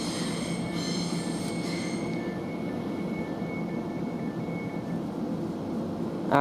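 Train at Shenfield railway station moving along the platform, a steady rumbling rolling noise with thin high wheel squeal drifting in and out, moderately loud and continuous, ending in a sudden louder clatter.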